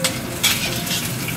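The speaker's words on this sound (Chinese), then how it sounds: "姜呢已经有煎到有焦黄了" Ginger frying in a pan until golden for home-style braised pork, with unpeeled garlic cloves nearby: a steady, close sizzle with soft scraping bursts from stirring, no voices.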